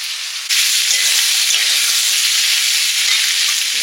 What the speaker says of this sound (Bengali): মুলোগুলো হালকা হালকা ভাজা হয়েছে